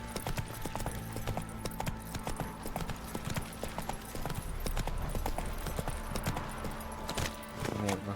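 Roach, Geralt's horse in The Witcher 3, gallops with a steady, fast clip-clop of hooves pounding close and loud throughout, over a low rumbling game backdrop.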